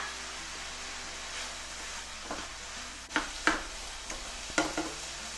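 Red onion, a small one, drops into a hot pan with chopped garlic and sizzles steadily, with a few sharp stirring scrapes and clatters breaking through the frying hiss.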